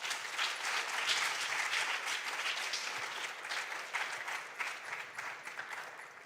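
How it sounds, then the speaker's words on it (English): Sustained audience applause at a Junior Science and Maths quiz quarter-final at Kwame Nkrumah University's College of Science, many hands clapping steadily and fairly loud throughout, with no voices standing out. "Please let's give each other a big round of applause."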